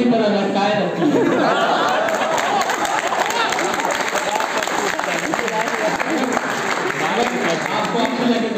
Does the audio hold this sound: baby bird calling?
no